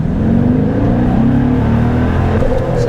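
A 2014 Dodge Challenger engine pulls hard under acceleration, a loud, close, steady roar with rising harmonics as it climbs through the gears, and no talk over it.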